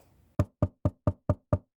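Six evenly spaced, firm knocks on a cottage door sound close and loud in a quick steady rhythm, with no talk.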